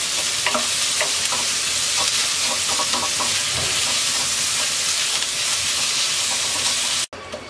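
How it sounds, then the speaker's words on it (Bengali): Chopped onion sizzling in hot oil, a steady dense crackle with occasional stirring scrapes, loud and close throughout before cutting off abruptly near the end; no talk. "তেলটা গরম হয়ে গেছে, দিয়ে দিচ্ছি পেঁয়াজ কুচি। পেঁয়াজটাকে হালকা নরম করে ভেজে নেব।"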